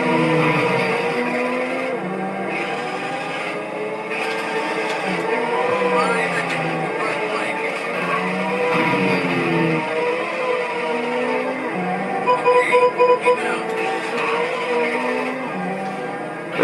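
Race cars in the Super Monaco GP arcade racing game roar past with engine whine and skid noises, a steady loud motor drone throughout with a brief burst of beeping tones near the end.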